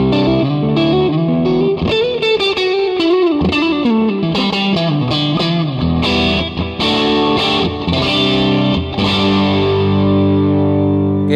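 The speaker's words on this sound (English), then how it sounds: "the input gain actually can push the amp a little bit harder, so you can bring it to a bit of distortion or overdrive territory" An electric guitar played through an Electro-Harmonix POG 3 octave pedal with the input gain pushed into overdrive gives a thick, distorted, octave-layered tone with bending lines and sustained chords, loud and alone throughout.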